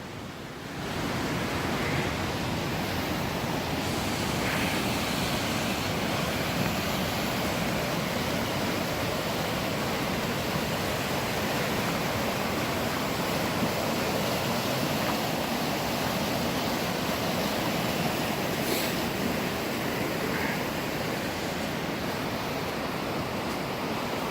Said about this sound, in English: I'm going to walk you down this trail a little bit and show you the beautiful Kagawong River